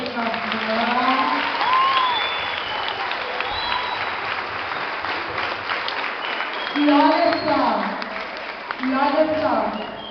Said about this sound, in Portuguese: Então nós vamos dar um aplauso bem carinhoso para esse nosso irmão.